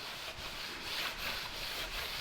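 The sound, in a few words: hand scratching fresh clear coat on car hood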